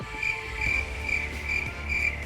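Original arcade Pac-Man game sounds play in a 3D first-person Pac-Man game, with a steady high electronic tone pulsing in a regular rhythm over a low, busy backdrop and no voices.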